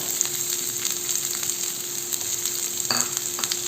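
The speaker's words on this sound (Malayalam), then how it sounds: "അതിലേക്ക് ആവശ്യത്തിന് വെളിച്ചെണ്ണ ചേർത്ത് കൊടുക്കാം അതിലേക്ക് അരിഞ്ഞു വെച്ചിരിക്കുന്ന ഉള്ളിയും അതുപോലെ തന്നെ കറിവേപ്പിലയുമാണ് അത് ചേർത്ത് കൊടുക്കാം" Chopped shallots and curry leaves fry in coconut oil in a pan, giving a continuous close sizzle with occasional stirring scrapes and no talk.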